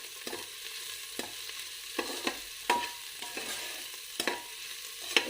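Onion, ginger and garlic fry gently in a pan under a soft, continuous sizzle, punctuated by a series of sharp spatula scrapes and knocks as the mixture is stirred, with no voices.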